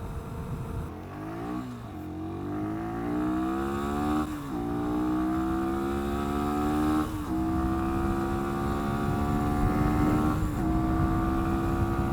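A 2022 Sinnis SM-XE electric motorcycle accelerates in 6th gear, its motor whine rising steadily in pitch and dropping back several times as the speed climbs, loud and continuous over rushing wind noise.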